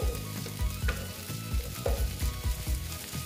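Okra and egg frying in a pan with a steady sizzle and repeated scraping knocks from stirring, no voices.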